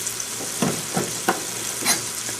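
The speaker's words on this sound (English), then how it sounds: "I'm actually going to cook them on the George Foreman grill" Garlic nuggets cooking on a George Foreman grill give a close, soft sizzle with several short scraping stirs and taps layered over it.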